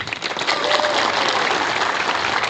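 Prison inmates clapping together in a dense, sustained burst of applause that fills the short stretch at a fairly even level.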